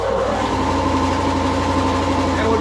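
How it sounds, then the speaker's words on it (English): An air compressor for a plasma cutter runs in a workshop as it charges its air receiver tank, giving a steady, loud, close motor drone with a constant mechanical hum and no pauses. "just turn the compressor back on"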